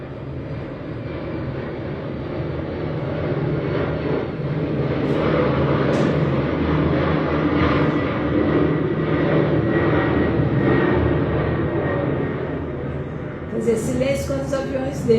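Airplanes flying overhead produce a broad, rumbling drone that swells gradually, holds for several seconds and then eases off, heard from a distance and without other prominent sounds.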